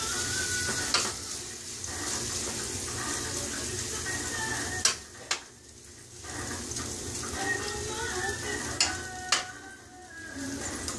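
Two corned beef burgers fry in a pan with a steady, moderate sizzle nearby, punctuated by a few sharp clicks and knocks of kitchen utensils.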